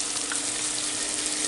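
Tomato and fresh turmeric sizzle in hot oil while being stirred, a dense, steady close-up crackling hiss with no pauses.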